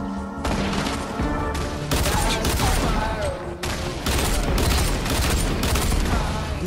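Rapid Fortnite gunfire rattles in dense, overlapping bursts from start to finish, loud and close, with brief gaps between volleys and faint game effects beneath.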